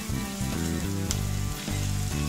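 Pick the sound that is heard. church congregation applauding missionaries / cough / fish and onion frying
fish and onion frying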